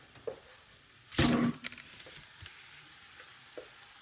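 Adai dosa frying in oil on a pan over medium flame, a short burst of sizzling with a few soft stirring or scraping taps nearby, otherwise quiet.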